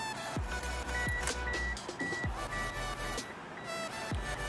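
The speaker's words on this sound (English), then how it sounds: "Sorry for the beeping" Steady electronic beeping repeats in a regular pattern over a low engine-like hum, with thumps and clunks mixed in, during a radio installation in a Ford ZX2.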